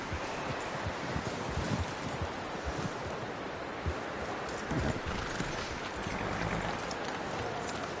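Horse hooves clip-clop steadily in the video game Red Dead Redemption 2, a continuous close patter under wind and rustling ambience.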